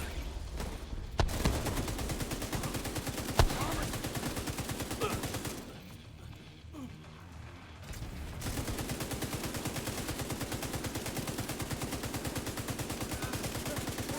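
A light machine gun in The Division 2 fires long, rapid automatic bursts, loud and close, with a brief lull partway through before the sustained firing resumes.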